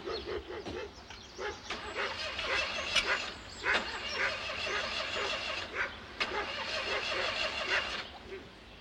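An old tractor engine on a farm cranks repeatedly with a whining starter that fails to catch, several uneven bursts close by, with faint voices in the background.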